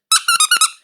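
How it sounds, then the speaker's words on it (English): A small squeaky dog toy is squeezed several times in quick succession, producing four or five sharp, high-pitched squeaks, close and loud with no talking. "I've got a little squeaky toy for Alan."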